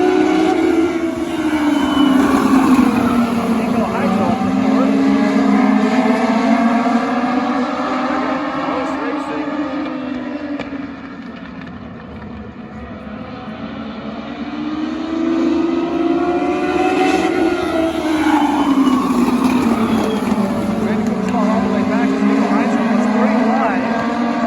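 Race cars roar around a speedway oval, a dense pack of engines droning loudly and rising and falling in pitch as they pass, with the sound dipping briefly before swelling again.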